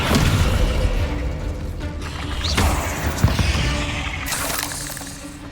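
Spell effects from Hogwarts Legacy burst in a rapid sequence of shattering blasts, whooshes and booming impacts, loud and close, with crackling debris between hits and no voices over them.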